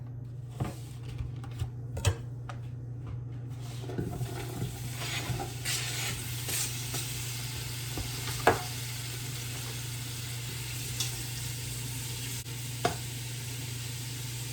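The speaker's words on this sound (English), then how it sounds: "I'm going to go ahead and get this in the pan." Sliced sausage sizzling in a pan, a steady soft frying hiss with a low hum beneath and occasional light clicks and taps as pieces are moved, fairly faint and close.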